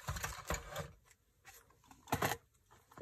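A rechargeable pet hair clipper with a ceramic blade cuts in short bursts, giving a faint, uneven buzzing whir that swells and fades several times, with no voices.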